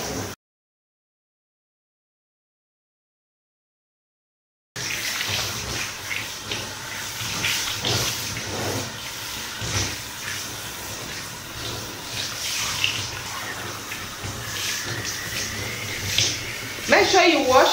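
Running water rinsing a lemon and sugar scrub off the legs, a steady hiss of tap or shower flow after a silent gap, with small splashes throughout.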